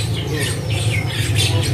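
A siri-siri besar bird in a cage at a bird market gives loud, harsh squawking calls close up, continuous and alone for a brief moment.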